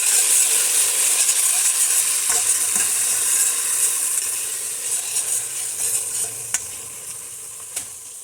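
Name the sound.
crushed chili pepper and onion sizzling in red oil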